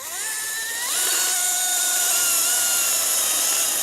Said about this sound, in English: Mike, the head vet, is behind the chainsaw